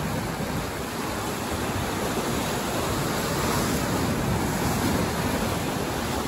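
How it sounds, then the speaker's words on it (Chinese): Ocean surf at a rocky island off Malaysia roars loudly and continuously, a dense wash of breaking waves with some wind buffeting and no speech. "看这边的海浪"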